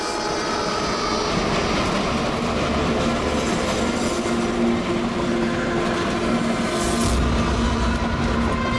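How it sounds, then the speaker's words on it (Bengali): A train rumbles steadily through a tunnel in a TV crime drama sound effect, a dense, loud, unbroken roar with faint clattering and metallic tones throughout. "100 বছর আগে ট্রেনটা টানেলের ভিতরে ঢোকে।"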